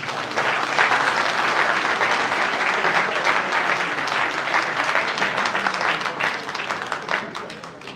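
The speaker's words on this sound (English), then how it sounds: "Can we clap for that, please?" Sustained, loud applause from a crowd at a Frankfurt gathering for Peter Obi, thick and continuous for eight seconds with faint voices mixed in, tapering slightly toward the end.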